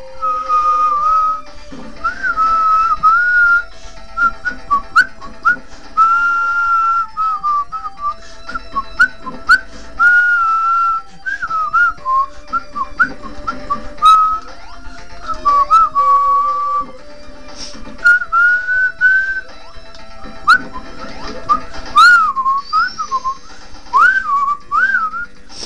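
Steady, close whistling of a meandering melody runs almost without pause over quieter Sonic the Hedgehog 1 game audio from the Scrap Brain Zone stage, with brief breaths between phrases.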